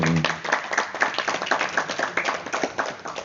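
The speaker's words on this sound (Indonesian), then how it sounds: "Saya mohon tepuk tangannya untuk beliau." A school farewell ceremony for a retiring principal draws steady audience clapping, many hands beating in a dense, continuous patter for a few seconds at a moderate distance, with faint voices beneath.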